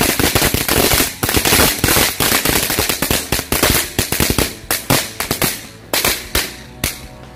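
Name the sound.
dino egg firecracker (mercon telur dino pretek) exploding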